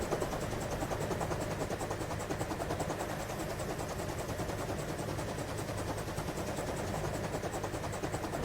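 Missiles launching repeatedly in the naval strategy game Carrier Command 2, a dense, continuous loud roar with rapid rattling pulses throughout.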